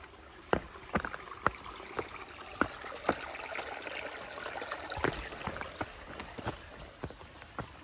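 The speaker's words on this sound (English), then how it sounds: "It's a really nice flowing spring up there." A small, steadily flowing mountain spring along a trail, trickling in a constant soft wash with scattered brief splashes and ticks, quiet and fairly close with no voices.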